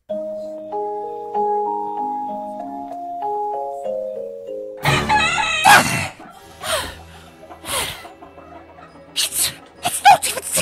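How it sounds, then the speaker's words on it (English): A rooster crows early in the morning, a few loud, strained cries in the second half, following a short gentle melody, with animated exclamations and laughter-like sounds mixed in. "That rooster is delusional!"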